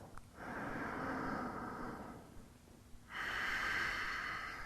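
Slow, deep breaths during a seated yoga twist, close and clearly audible: a long airy inhale through the nose followed by a fuller, rushing exhale, with no talking.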